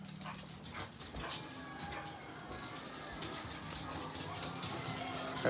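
A puppy named Pepper whimpers and gives soft barks indoors, scattered yips and whines over a low, busy background.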